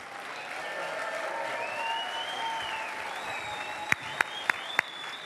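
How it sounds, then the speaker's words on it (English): A crowd at the Goodwood Festival of Speed applauds 1992 world champion Nigel Mansell with steady clapping and some whistles, and a few sharp, loud claps stand out near the end. "Let's have a massive round of applause for the 1992 world champion, Nigel Mansell."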